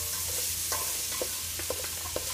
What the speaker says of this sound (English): while you got your onions and your butternut squash cooking